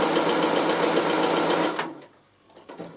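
A Bernina sewing machine runs steadily, stitching Christmas hand towels together in a close, loud, even whir before stopping abruptly, followed by a few soft handling clicks.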